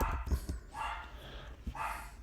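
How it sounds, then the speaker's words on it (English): Several dogs bark in short excited bursts from a nearby room, loud and irregular with a few yips between, no talking. "my dogs are going crazy in the other room"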